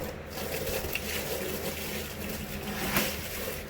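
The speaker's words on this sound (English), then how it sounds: "I'm going to put just a little bit of water over these stones." Water poured over polishing stones for a rock tumbler pre-wash, a steady close splashing and trickling stream, fairly quiet and continuous.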